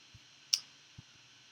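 A single crisp computer mouse click stands out in a quiet room, bracketed by a couple of softer dull taps, brief and close with no speech.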